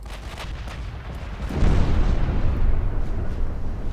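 Naval gunfire from warships in Ultimate Admiral Dreadnoughts, 1944 battle off China: a rumbling barrage that swells sharply midway into loud, sustained booming, with no talk.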